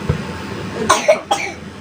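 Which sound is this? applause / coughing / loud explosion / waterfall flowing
coughing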